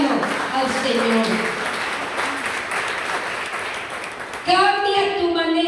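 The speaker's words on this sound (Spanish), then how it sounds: "Dale un aplauso a mi hermano, al Señor." Applause breaks out during a church service, a continuous patter of clapping under loud speaking voices that swell again near the end.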